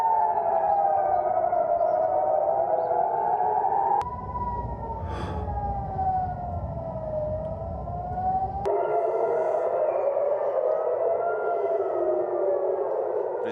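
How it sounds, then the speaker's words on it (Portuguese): Air raid warning sirens wail over Tehran, their pitch rising and falling in slow, continuous sweeps, loud and steady for the whole stretch with no voices. "sirenes de alerta aéreo soaram por diversas localidades"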